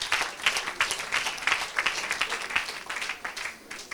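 A church crowd at an evangelist's gathering claps and cheers for Jesus, dense rapid applause swelling in uneven bursts throughout, fairly close and without clear speech.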